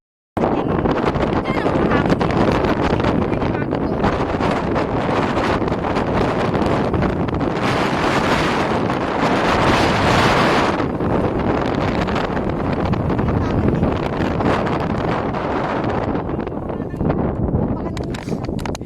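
Strong, steady wind roars across an exposed mountain peak, loud and continuous as it buffets the microphone, with brief voices mixed in.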